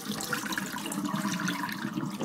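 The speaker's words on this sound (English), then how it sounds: "drain the water out" Water draining out of a bowl of soaking kale and leafy greens, a steady close rushing and splashing flow that carries on without a break and has no voices over it.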